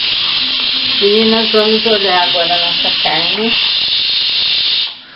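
A pressure cooker of meat soup vents steam in a loud, steady, high hiss that runs for several seconds beneath a woman's speech, then cuts off abruptly.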